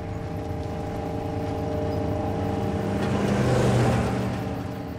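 An old station wagon with wooden panels drives in The Walking Dead Telltale game, a low engine rumble that gradually grows louder as if approaching, then eases slightly, with no voices.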